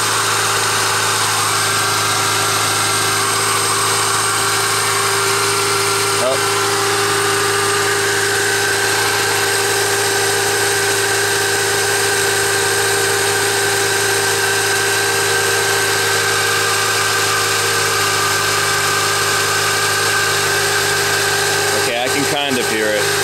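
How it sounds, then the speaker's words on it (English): A 1999 Toyota Corolla 1.8 engine idles high and steady with a faint power steering whine, a continuous even drone near at hand with no talk over it. "The engine's still running really high right now"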